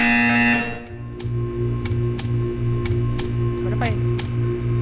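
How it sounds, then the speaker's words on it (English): A buzzer in the video game Portal 2 pulses in a steady repeating rhythm over a low electrical hum, loud and close, with sharp clicking ticks recurring alongside it. "You will hear a buzzer."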